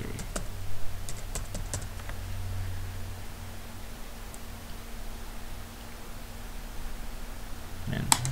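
Typing on a computer keyboard: a quick cluster of close key clicks near the start, then quieter room hiss with a few scattered taps near the end.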